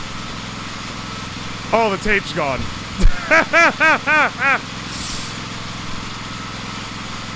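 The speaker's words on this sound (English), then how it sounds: "I feel like the engine's getting choked a bit." A car engine idles steadily in the background, its exhaust rigged for smoking meat, while someone speaks in short bursts over the low, constant rumble.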